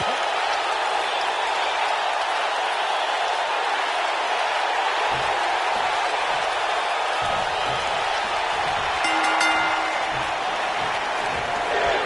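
Large arena crowd in WWE 2K19 roars and applauds steadily and loudly throughout, a dense wall of cheering with occasional whoops rising near the end.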